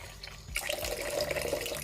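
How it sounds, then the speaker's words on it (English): Water from a tap starts abruptly and runs steadily over sea moss in a bowl, a close, continuous splashing rush with no voices. "we're just gonna get some water on it"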